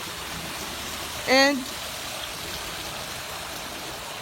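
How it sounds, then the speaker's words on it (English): Steady rushing of flowing water from a campus water feature, a continuous even wash throughout with one brief spoken word near the start. "And here's the water feature."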